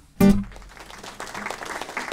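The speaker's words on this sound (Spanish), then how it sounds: "Muchas gracias por esos aplausos." Audience applause at a tango concert breaks out suddenly and settles into steady, moderate clapping from a hall full of listeners.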